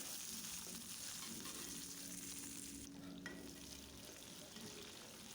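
A soft, steady sizzle of about 10-15 garlic cloves frying in oil in a pan, crackling evenly throughout with no talking.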